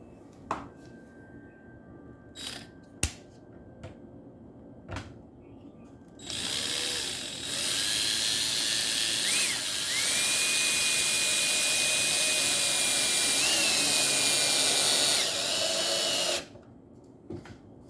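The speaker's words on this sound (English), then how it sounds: "I'll put the screw right here." A power driver sinks a GRK trim screw into crown molding in one sustained, high-pitched whirring run of about ten seconds, preceded by a few sharp clicks and taps.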